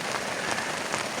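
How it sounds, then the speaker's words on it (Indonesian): Moderate rain falls steadily on a foggy forest campsite, a dense, even patter of drops hitting surfaces with no voices. "ini jam 9 pagi, berkabut, hujan sedang lah ini"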